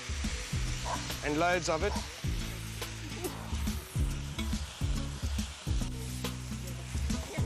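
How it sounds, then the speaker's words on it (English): Garlic hits a hot pan with a loud, continuous sizzle and bursts of stirring, while someone talks over it. "Right, the garlic goes in."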